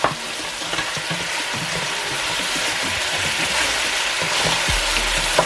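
Jamaican stew pork sizzles in a pot as a spoon stirs it, giving a steady loud frying hiss with scraping and clacking under it and a low thump near the end.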